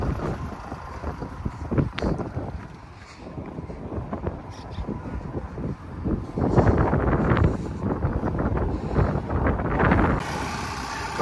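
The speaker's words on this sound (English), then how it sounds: "the egg wagon is hooked up to the tractor to move out to the field" Tractor towing an egg wagon out to a chicken pasture, a steady low engine rumble with rattling and clanking that grows louder partway through, with wind noise over the microphone.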